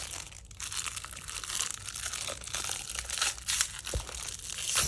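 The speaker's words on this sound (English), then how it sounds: "Sorry if you don't like the crinkly noises, you could probably just skip ahead a little bit" Crinkly plastic packaging of a stationery haul being opened by hand, close and fairly quiet, with irregular crackling and crumpling bursts and a few sharper tearing snaps.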